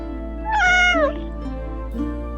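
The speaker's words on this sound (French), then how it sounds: "ce miaou a l'air trop triste" A cartoon cat gives one drawn-out, sad meow that bends downward, followed by a softer short mew, up close over a quiet steady musical background.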